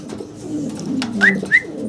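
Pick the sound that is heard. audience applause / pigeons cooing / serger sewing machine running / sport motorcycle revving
pigeons cooing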